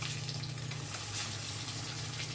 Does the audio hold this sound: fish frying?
yes